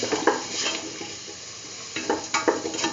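A spoon stirs lemon juice into a beetroot and mung bean rice mixture, giving a few scraping, clinking strokes against the pot, then a quiet pause before another quick run of stirring scrapes.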